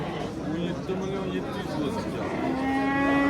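A male calf moos at a livestock market, several drawn-out calls at mid distance rising over a busy crowd hubbub, with people talking throughout.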